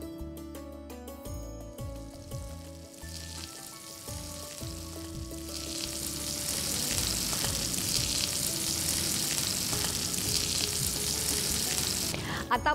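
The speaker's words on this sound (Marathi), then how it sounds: "मगच ते आपल्याला शॅलो फ्राय करायचे" Bangda (mackerel) coated in semolina shallow frying in hot oil in a pan, a steady dense sizzle that swells louder after the first few seconds, with faint clinks early on and no talk.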